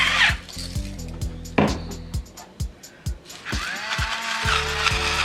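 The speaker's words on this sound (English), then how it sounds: "Some fresh cracked black pepper," A pepper mill grinds fresh cracked black pepper over lamb chops in a home kitchen, giving a run of close, dry, ratcheting clicks in an uneven rhythm of short twists, with no talking.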